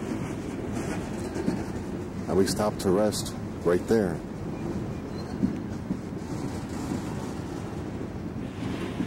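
A long train rolls past on the rail line beside the C&O Canal between Point of Rocks and Brunswick, Maryland, a steady low rumble that continues throughout while a person talks over it partway through.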